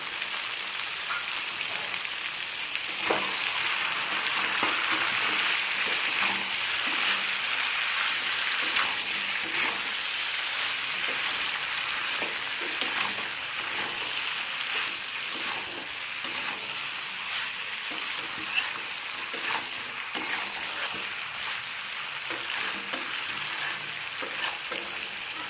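Green peas sizzle and fry steadily in a hot pan, a continuous crackling hiss with small pops and occasional stirring scrapes, close and constant with no voices.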